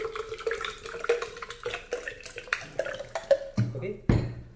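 About 250 ml of water is poured into a blender for a frozen banana smoothie, a faint, uneven trickle of splashes and small clinks ending in a couple of louder knocks.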